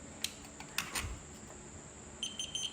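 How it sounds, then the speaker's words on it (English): A continuity tester beeper checking the magneto wiring of a 1967 Generator Shovelhead gives a few short, faint, high beeps, scattered at first, then a quick cluster at the end, in an otherwise quiet space. "So it's beeping already."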